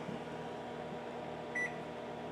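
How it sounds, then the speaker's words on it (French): An LG microwave oven running, giving a steady, low, close hum throughout, with a short electronic beep partway through. "il reste 40 secondes au four micro-ondes qui fonctionne présentement"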